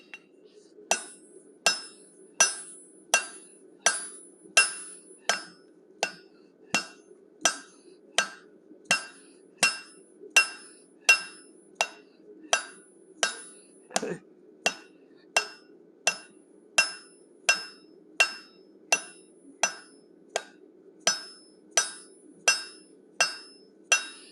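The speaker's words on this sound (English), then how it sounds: "First step of the process is to forge a 3-sided taper, tapered on the top and the sides and flat on the bottom." Steady, evenly spaced hammer blows ring out on 1-inch square steel stock as a three-sided taper is forged, flat on the bottom, about thirty sharp metallic strikes close by with a low hum underneath.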